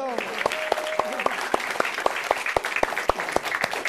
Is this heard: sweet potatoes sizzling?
no